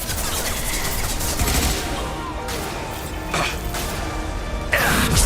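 Sci-fi combat gunfire in Mass Effect 2, with dense bursts of automatic shots and impacts running continuously under a busy battle mix, with a few sharper cracks standing out.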